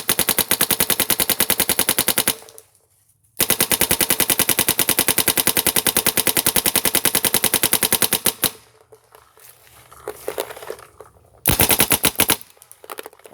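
A paintball marker fed by an HK Army TFX3 loader fires in long rapid bursts of closely spaced sharp pops, loud and near, with brief pauses between strings and a final short burst after a quieter stretch.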